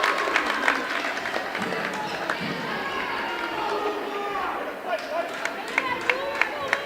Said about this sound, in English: This Elk Mound crowd starting to rumble a little bit here